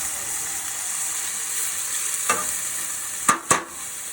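Garlic frying in oil in a pan with hot pepper seeds, a steady soft sizzle throughout, broken by a few sharp scraping or clicking stirs near the end.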